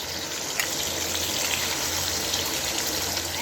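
Prawns go into hot mustard oil in a wok and fry with a dense, steady hiss and sputter, close and fairly loud, with no voices.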